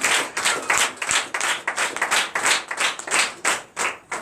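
A church congregation claps together in praise of the Lord, a loud, steady rhythmic stream of claps repeating about twice a second, heard alone with no voices.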